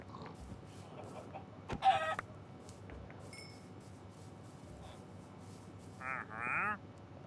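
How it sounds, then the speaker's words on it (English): Minecraft chickens clucking in short bursts, one loud cluster early and another toward the end, over a steady low in-game ambience with faint scattered chirps. "all these chickens that have just escaped,"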